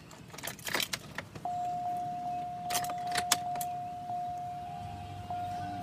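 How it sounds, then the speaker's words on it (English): Keys jangling inside a 2005 Cadillac DeVille, with bursts of metallic clinking at the start and again midway, followed by a steady electronic tone and a low mechanical hum. "my keys here."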